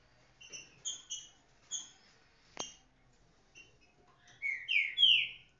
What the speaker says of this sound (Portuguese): Esse aqui são meus pássaros.